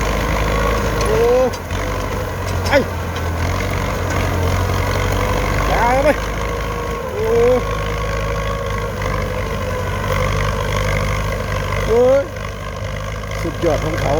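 A Ford farm tractor runs steadily during hired ploughing work in rice fields, its engine a constant low drone with brief mechanical clanks, while someone talks over it.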